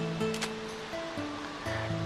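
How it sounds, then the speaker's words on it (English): Rushing water from a waterfall in the video game Dark Chronicle, a continuous wash of noise under sustained musical tones and a few brief whooshes. "The waterfall."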